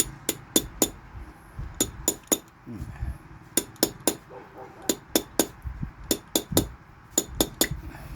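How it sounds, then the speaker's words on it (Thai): A new dust seal is hammered onto a motorcycle fork during a fork seal and oil change: sharp, close metallic taps come in quick clusters of three or four, repeating steadily with short pauses and no talking. "กันฝุ่นตัวใหม่เราจะใส่ไปก่อนเลย แล้วก็ตอก ขอบขอบลงมา"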